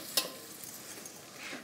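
Food fries in a saucepan and gets stirred: a quick scrape of the spoon, then a soft, quiet sizzle for the rest of the brief moment.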